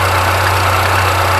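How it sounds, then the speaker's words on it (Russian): A car engine idles right after an oil change and flush, with a loud, steady low rumble and fine rhythmic pulsing, heard close and continuous with no speech. "Минуту проработал двигатель."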